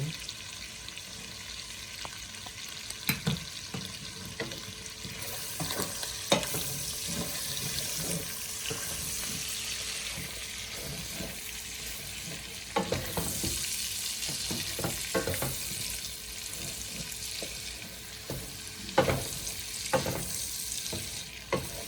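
Italian sausage for a copycat Zuppa Toscana soup sizzles and fries steadily in a pan, a continuous bright crackle broken by occasional clatters of stirring, with no talking.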